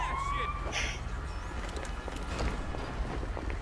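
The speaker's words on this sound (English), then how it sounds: "Ambulance." An ambulance siren in the video game GTA V, a rising and wailing tone heard over steady traffic rumble, the siren clearest at the start and then fading among the street noise.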